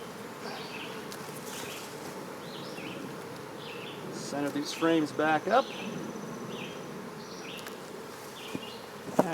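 Honeybees buzz steadily around an opened hive box during a nuc transfer, a dense close drone with individual bees zipping past. Someone speaks briefly over the hum.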